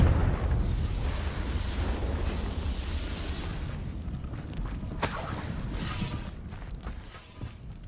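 A Confringo spell explosion in the Hogwarts Legacy video game lands as a loud, rumbling blast that slowly decays, with a sharp crack about midway and scattered debris-like rattles trailing off.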